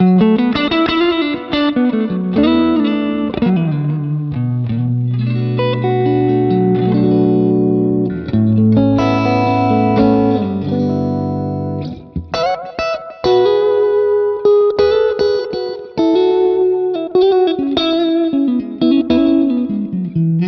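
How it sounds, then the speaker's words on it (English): Clean, warm electric guitar through a modeled Fender Deluxe Reverb amp on a Line 6 Helix, playing chords and melodic lines with a touch of reverb, loud and alone with no talking. "Here's my bass Deluxe Reverb sound."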